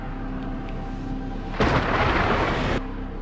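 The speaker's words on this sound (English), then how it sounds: "This storm!" A sudden crack and roll of thunder from a storm in the Warframe video game bursts over a steady low background rumble, lasting about a second before cutting off sharply.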